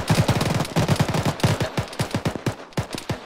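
Rapid machine gun bursts in the military shooter ArmA, a ShackTac squad firefight, with dense rhythmic shots giving way to slower spaced single reports, loud and close with no talk over them.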